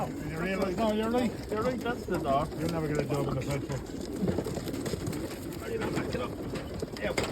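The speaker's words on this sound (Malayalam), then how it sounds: "ആ ട്രൈക്കകത്ത് നിറച്ച് പ്രാവുകളാണ്." A truck packed with racing pigeons, mostly grey, stands in Ireland. Many birds coo continuously up close, deep and rolling, while a person talks over them.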